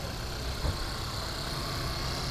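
A 2017 Mercedes GLC 300 with a 2.0 engine idles smoothly and quietly, a steady low hum with no one talking.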